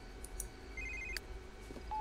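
A telephone in The Sims 3 gives short electronic rings with a few brief tones in a quiet room, and no one speaks over them.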